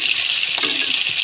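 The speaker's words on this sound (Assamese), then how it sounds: "কণী ফ্ৰাই কৰি আছো" Eggs fry in oil in a hot kadai, giving a continuous close, loud hiss with a faint stir in the middle.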